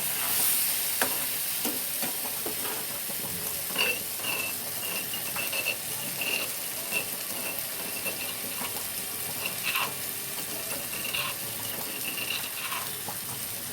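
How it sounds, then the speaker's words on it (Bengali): Potatoes stir-fried with spices in a pan make a continuous sizzle and hiss, punctuated by frequent scraping and stirring strokes, close and steady throughout with no talking. "এবারে মশলার সাথে আলুটাকে ভালো করে মিশিয়ে দেবো"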